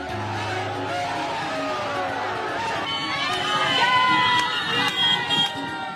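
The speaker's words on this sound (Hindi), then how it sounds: "पीएम मोदी के स्वागत में सड़क के दोनों ओर भारी भीड़ जमा थी।" A large roadside crowd cheers and shouts during PM Modi's roadshow to Baba Dham in Deoghar, a dense mass of voices with rising whistles and calls that swell louder toward the end.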